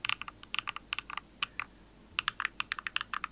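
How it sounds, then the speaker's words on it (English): Crisp, clacky custom mechanical keyboard typing up close, a quick burst of keystrokes, a brief pause, then another rapid run of keys. "So here's the sound test for Hippio's keyboard."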